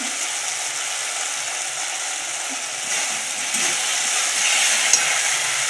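Spices sauté in a pan for an egg curry made with milk, giving a steady, close sizzle that holds evenly and swells slightly toward the end.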